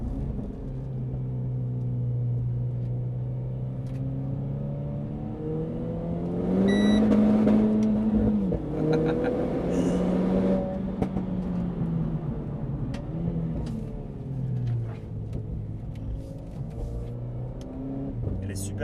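A Renault Clio IV RS 200 EDC accelerates on the road, its engine rumbling steadily from inside the cabin and rising in pitch through the gears. Someone talks over it throughout.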